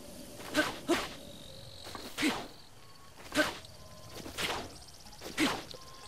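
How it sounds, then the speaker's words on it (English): Crickets in Zelda: Breath of the Wild, found by cutting grass, give short chirping bursts about once a second over a quiet outdoor ambience, with soft rustles and steps between them. "you can actually find these crickets."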